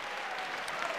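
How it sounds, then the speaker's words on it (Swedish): A brief burst of steady clapping from an audience at the Melodifestivalen 1992 song contest, dense and even throughout. "Sen är ju jättebra på att applådera."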